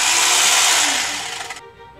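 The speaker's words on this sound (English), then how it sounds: "Chainsaw!" A chainsaw roars loudly and close, its harsh whine gradually weakening and roughening before cutting off abruptly, followed by a faint ringing tail.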